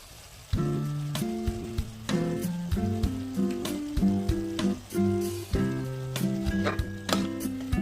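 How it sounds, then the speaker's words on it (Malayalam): Chopped onions sauté in a pan of oil left over from frying chicken, giving a steady, close sizzle and frying hiss that runs continuously under rhythmic tonal sounds. "ചിക്കൻ പൊരിച്ചെടുത്ത ഉരുളയിൽ തന്നെ നമുക്ക് ഉള്ളിയും വഴറ്റാം."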